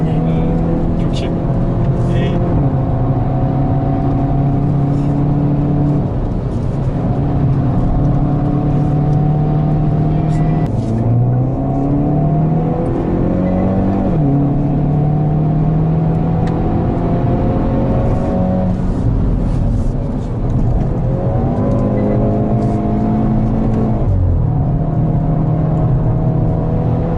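A Hyundai Veloster N engine revving with throttle held, its pitch climbing and falling repeatedly in long steady drones, loud and close, with people talking over it.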